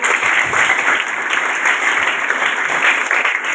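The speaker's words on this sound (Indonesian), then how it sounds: "kita kasih tepuk tangan" A church audience gives a warm round of steady, dense applause for several seconds, with no talking over it.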